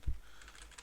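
Brief, quiet keystrokes on a computer keyboard while C# code is being written, with a soft thump at the start followed by a few faint clicks.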